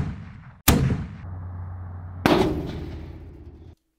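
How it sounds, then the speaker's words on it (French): Two heavy cannon shots from a Galopin 1890 eclipsing turret, each a sharp loud blast followed by a long rumbling decay, with a low steady mechanical hum between them and no talking. "soit 4 à 6 tirs de canon"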